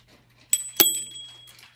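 Two small bells ring in quick succession nearby, bright metallic strikes that leave a ringing tone fading over about a second against a low background hum.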